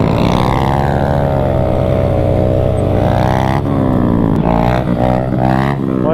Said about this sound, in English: he's doing a wheelie